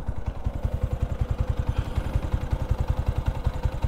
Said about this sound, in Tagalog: Ito tunog ng makina.